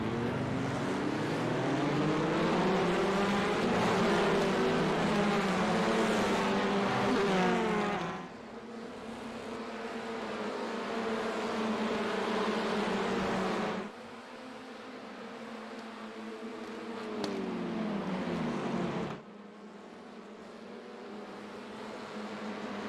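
Race cars launching at the start of a race at Mosport, a loud massed engine roar with rising revs and gear changes, dropping in steps as the field pulls away into the distance.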